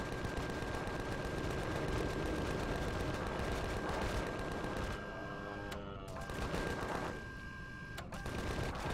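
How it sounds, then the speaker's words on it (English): Rapid, continuous gunfire from shooting enemies in the survival game Empyrion Galactic Survival, a dense steady rattle of shots that briefly thins out before resuming, loud and close. "I might as well shoot these guys for XP."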